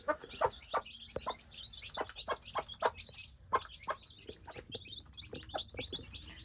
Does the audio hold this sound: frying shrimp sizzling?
no